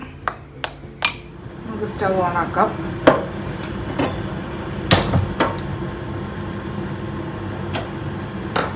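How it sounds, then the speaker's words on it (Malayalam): A clay chatti is set down on a stove, giving a few sharp close knocks and clatters amid kitchen handling noises, with a soft hum in the background. "ഒരു ചട്ടി എടുത്ത് വെച്ചിട്ടുണ്ട്"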